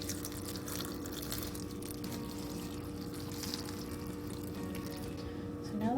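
Water runs steadily into a pot holding Brussels sprouts, a continuous close liquid rush with no break in its flow and no voices.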